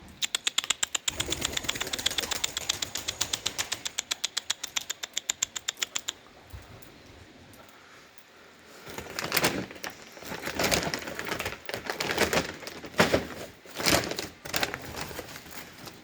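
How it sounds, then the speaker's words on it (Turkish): Rapid pigeon wing flapping beats steadily at first, then the pigeons flutter in irregular bursts of flapping with soft rustling between, fairly close. "diğer kuşlar uçuyorlar hala"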